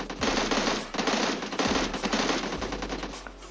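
Sustained bursts of M16 rifle fire in the PUBG Mobile Lite battle royale game, loud and close, with rapid automatic shots broken by brief pauses between three volleys.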